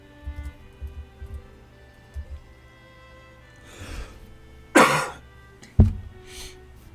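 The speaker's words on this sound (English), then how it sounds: "Apparently I've got a cough today." A person coughs in a dwarf tavern-building game session, with a loud burst of coughing followed by a sharp throat-clearing hack, close to the mic over faint low game sounds and sparse murmuring.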